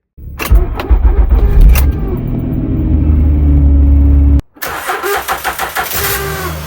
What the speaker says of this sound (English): Does your car crank slow and make these noises when starting the engine